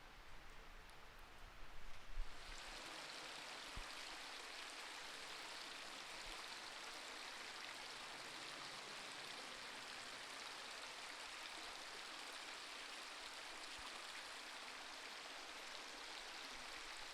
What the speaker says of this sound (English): In front of us is the cave stream